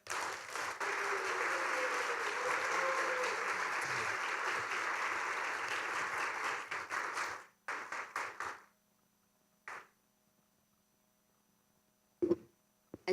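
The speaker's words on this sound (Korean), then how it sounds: "큰 박수로 환영하도록 하겠습니다" A hall full of attendees at a Korean Christian business convention in Chicago gives a lecturer a warm round of applause that runs steadily for about seven seconds, then fades into scattered claps and faint clatter.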